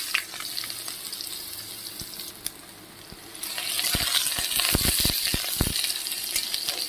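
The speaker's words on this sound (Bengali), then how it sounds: "এদিকে কড়াইয়ে আমি তেল বসিয়ে দিয়েছি। প্রথমে আমি আলু আর বেগুনটা ভেজে নেবো একসঙ্গে।" Potato and eggplant pieces frying together in hot oil in a wok, with a steady sizzle that grows louder midway. Several sharp clinks from stirring punctuate the frying.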